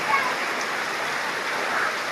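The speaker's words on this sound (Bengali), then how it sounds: "প্রচুর বৃষ্টি হচ্ছে দেখেন" Steady, dense rain pouring down, a continuous broadband hiss with no gaps, close and loud.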